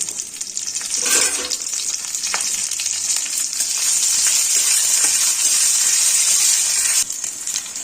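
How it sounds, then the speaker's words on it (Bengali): Panch phoron and slit green chilies hit hot oil with a loud, bright, steady sizzle and crackle up close, briefly stirred, continuing throughout without any talk. "তেলটা গরম হয়ে গেছে, এবার আমি এর মধ্যে দেব 5 ফোড়ন আর দেব কাঁচা লঙ্কা ফোড়ন।"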